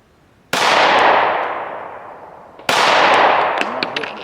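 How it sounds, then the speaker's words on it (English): Two loud, sharp shots from a Shadow Systems CR920 pistol, about two seconds apart, each cracking hard and then trailing off in a long ringing decay. "I'm just going to shoot this gun to give a fair comparison on how it recoils"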